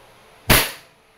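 A WE airsoft Glock 34 Gen 4 gas pistol fires a single sharp, loud shot close by, with a quick crack that fades over a fraction of a second, set against a quiet background.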